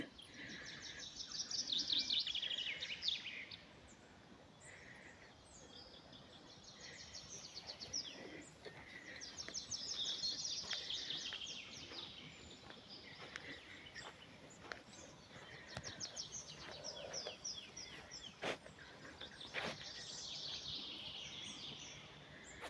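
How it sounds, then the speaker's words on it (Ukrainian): Small yellow birds chirp and sing almost continuously in the background of a forest, with several overlapping high calls and a few sharp tweets, moderately distant and fairly faint. "пташки так співають"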